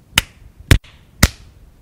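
Three sharp hand claps, evenly spaced about half a second apart, close and crisp against near silence.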